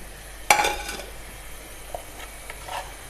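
Potatoes and eggs stir-fried with green chillies and coriander: a sharp metal clack of a utensil against the pan opens, then gentle sizzling and a few soft scrapes follow.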